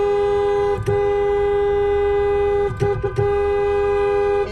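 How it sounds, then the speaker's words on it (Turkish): Car horns honking in slow border traffic on a road trip from Switzerland to Turkey: a loud sustained horn blast, cut by brief gaps, with more short honks layered near the end. "herkes protesto ediyor, kornalara basıyor"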